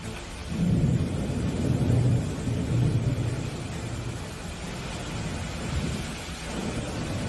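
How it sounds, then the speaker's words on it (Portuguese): Heavy rain pouring steadily, with deep rolling thunder rumbling through the downpour in a dense, continuous wash of sound. "Desta vez veremos como esta forte chuva"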